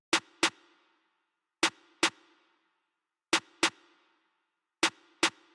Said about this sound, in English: the snare pattern just ended up sounding like this